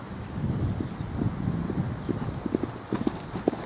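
A Criollo horse's hooves clip-clop in an irregular walking rhythm at close to medium range, with wind noise running underneath.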